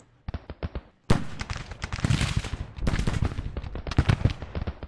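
Cannon and musket fire in the strategy game Grand Tactician: Civil War, during an 1862 Confederate campaign battle: a few sharp separate shots, then loud dense volleys and crackling bursts rolling almost continuously.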